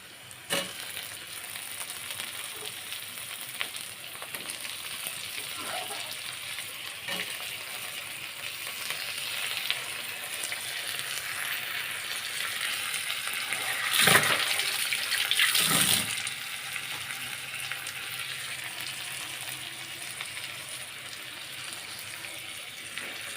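Tomatoes fry in oil with ginger and garlic in a home kitchen, giving a continuous moderate sizzle that swells briefly with a louder burst when the tomatoes go in, then settles back to a steady hiss.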